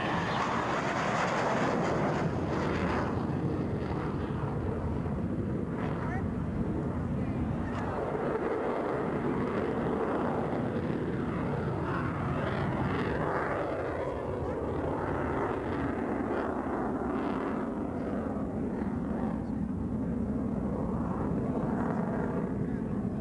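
A military jet climbs at an air show, a broad steady engine roar that holds loud throughout, with a public-address announcer talking over it.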